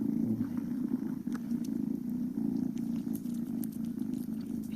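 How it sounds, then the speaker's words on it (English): A shelter cat purrs steadily and close, a continuous low rumbling drone with no talking over it. "He's purring like crazy right now"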